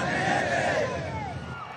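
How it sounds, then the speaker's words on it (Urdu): Venezuelan army troops chant anti-American slogans in unison, a loud massed shout with a rising whoop that fills the whole short stretch. "انہوں نے وینزویلا کی فوج کے ایک دستے سے خطاب کیا اور وہاں امریکہ کے خلاف نعرے لگوائے"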